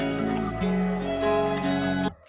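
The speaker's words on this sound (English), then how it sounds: "so I just pressed reverse and I got this super cool sample from it that I just chopped out" Reversed vocal sample chopped from an acapella and processed with crystallizer and a muffled octave effect, a sustained shimmering, harmonically rich tone that shifts pitch partway, then cuts off abruptly into a faint tail.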